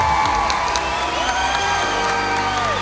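Loud crowd cheering, whooping and applauding for finalists and competitors at Wella TrendVision 2015 in Las Vegas, a continuous enthusiastic roar with high shouts rising above it.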